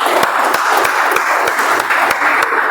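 Meeting audience breaks into loud, dense applause, many hands clapping steadily and close for the whole stretch, with a few sharper individual claps standing out and no speech.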